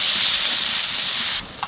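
Onions going into a hot pan for a Bengali dish of spiced dum aloo with yogurt, a steady loud sizzle and hiss that drops off sharply near the end, with no talk over it.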